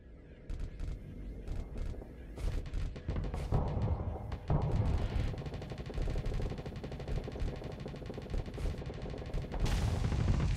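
Rapid bursts from an assault chain gun pound away in the space combat game Starsector, mixed with thuds of sabot missiles launching, dense rattling volleys that swell and pause before a sustained stream of fire at the end.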